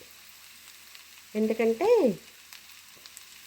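Radish pieces and onions frying in a pan with a little turmeric, giving a soft, steady sizzle throughout; a person briefly says a word partway through.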